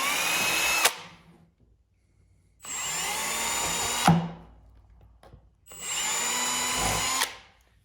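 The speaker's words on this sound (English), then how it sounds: "take a small drill bit, usually a 16th or right around that area, and drill a hole in the low point" A power drill with a small 1/16-inch bit whirs in three bursts into a ski, each spinning for about a second or two before winding down, with short quiet gaps between.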